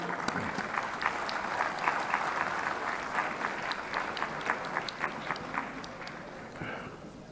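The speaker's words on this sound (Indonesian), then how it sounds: "Kita tepuk tangan." Applause at a joint parliamentary assembly session in a large hall, a dense, steady patter of many hands clapping continuously at moderate distance, with no speech over it.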